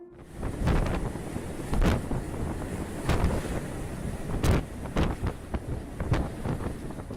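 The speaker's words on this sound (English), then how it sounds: "the winds were blowing at 89 miles per hour" Storm winds of about 89 miles per hour and huge ocean waves surround a ship at sea, heavy roaring wind buffeting the microphone with repeated loud crashing surges and bursts throughout.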